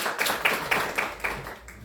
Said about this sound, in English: so please applause him